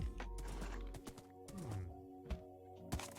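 Faint video game horse sounds: soft clip-clop hoof steps and snorts, quiet and scattered over a few seconds, with no talking.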